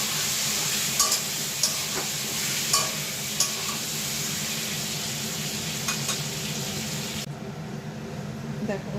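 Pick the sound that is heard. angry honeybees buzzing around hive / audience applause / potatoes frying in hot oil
potatoes frying in hot oil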